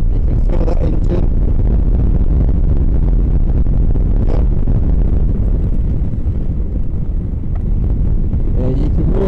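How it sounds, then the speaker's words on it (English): Honda Africa Twin 1100 twin-cylinder motorcycle engine pulling in fourth gear while riding, a steady loud low rumble mixed with heavy wind buffeting on the microphone throughout. "you can really feel the engine, the power of that twin cylinder thumping away"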